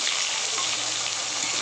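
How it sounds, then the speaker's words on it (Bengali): Cut potatoes frying in a pan with oil and cumin seeds, a steady, even hiss of sizzling that holds at the same level throughout, close and alone with no talk. "আলুগুলো একটু ভাজা ভাজা করে নেব"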